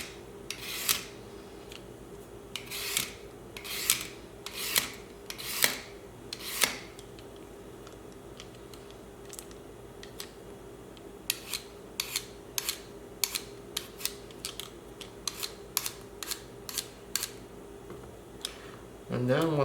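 Carrot being peeled in a home kitchen, a series of short rasping strokes that come in quick bursts, then sparser scrapes with pauses between them, close and moderately loud.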